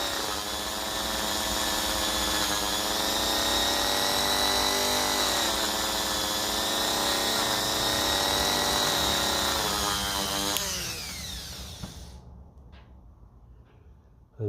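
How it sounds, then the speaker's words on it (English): A Dremel rotary tool whines steadily at high speed while polishing parts of a 1950s Lucas D3A4 distributor from a Ferguson T20 tractor, then spins down and fades out near the end. "hit them with the Dremel"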